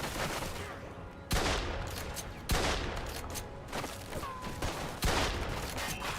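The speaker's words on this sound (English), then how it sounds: "But for a shotgun, it has a considerable sort of shot." A shotgun in Mafia II: Definitive Edition fires four loud, sharp blasts spaced roughly a second or more apart, each with a brief decaying tail over a busy background of game ambience.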